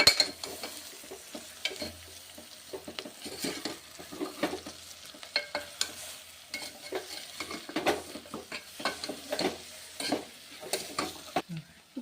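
A spoon stirs chili powder and masalas through mutton paya curry in a pot, making irregular scraping and clinking strokes over a soft, constant sizzle, moderately close and without talking.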